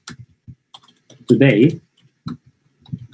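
Scattered keystrokes on a computer keyboard, light irregular clicks close by, mixed with a person talking.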